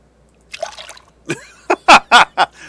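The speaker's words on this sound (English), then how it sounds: "I guess I could take water out of the toilets now." A handful of watery splashes and dribbles as water is scooped from a toilet in The Long Dark, close and clear, in separate bursts that grow louder and more rapid toward the end.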